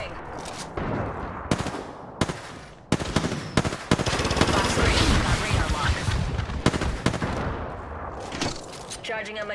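Loud, dense automatic gunfire in Apex Legends strikes the player in rapid, overlapping bursts with sharp cracks and brief pauses, while a voice speaks intermittently underneath.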